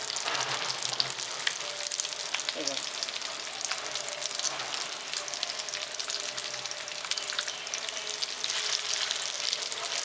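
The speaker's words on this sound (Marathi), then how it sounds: "फक्त अंडा लावून सुद्धा फ्राय केला तरी चालेल" Egg-coated chicken kebab patties fry in a pan with a dense, loud, continuous sizzle that stays close and even the whole time, with a faint stir or two and no talking.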